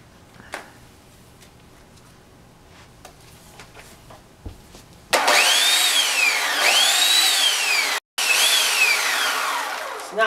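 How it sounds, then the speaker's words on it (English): A chainsaw roars to life after quiet rustling, its engine whining up and down in loud revving surges, briefly cutting out before restarting. "Ah, yes. Chainsaw."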